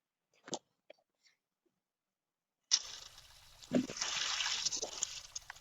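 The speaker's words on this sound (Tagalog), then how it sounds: "buksan mo na yung gripo." Water starts running steadily from a tap after a few brief knocks and clicks, a continuous hissing splash that persists to the end.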